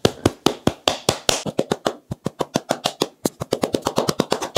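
Close, sharp hand claps as oily palms press Olaplex No. 7 hair oil into hair, a fast run of about two dozen distinct smacks in quick rhythm, briefly pausing near the middle before speeding up again, with no talk.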